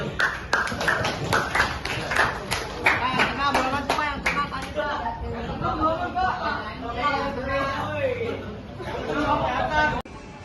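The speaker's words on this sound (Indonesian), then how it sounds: "Oke, semuanya tepuk tangan." An audience in a classroom or training session claps in a burst of sharp, uneven claps that quickly thins into chatter and murmuring voices, ending with a single thud.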